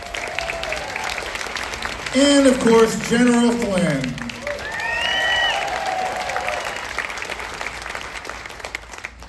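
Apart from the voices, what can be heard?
audience applause at a live event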